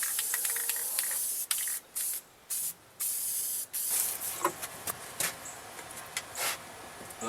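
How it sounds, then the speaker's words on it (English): Spray adhesive hissing from an aerosol can onto speaker grill cloth, a series of close, loud bursts, several long sprays early on followed by shorter quick squirts. "So I'll hit them up with a little bit of spray adhesive,"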